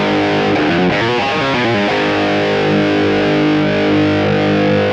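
Heavily distorted electric guitar tears through the riff at full speed, a dense, loud wall of fast picked notes and chugging, continuous and close with no talking.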